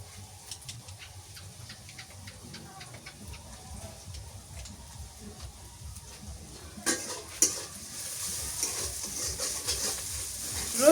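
Garlic frying in a pan while being stirred, with steady close scraping and clinking of a utensil over a soft continuous sizzle that grows louder toward the end.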